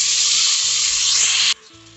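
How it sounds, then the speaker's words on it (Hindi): Finely chopped tomato stir-fried with spices in hot oil for rajma: a loud, steady sizzle that cuts off abruptly after about a second and a half, leaving a quiet background and no talking. "टमाटर को भी हम मसालों के साथ बिल्कुल अच्छे से स्टर फ्राई कर लेंगे।"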